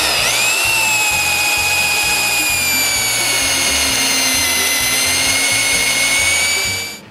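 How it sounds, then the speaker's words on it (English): A power drill whines steadily as it bores a series of mortise holes into a large wooden beam, its pitch dropping as the bit bites, with a rumbling chatter underneath; loud and close, no talking. "I drill a series of holes between the marks."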